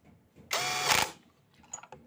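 An impact wrench tightens a fastener on a Honda Beat CVT, firing one loud, close, half-second burst of rattling hammering, followed by faint clinks of tools.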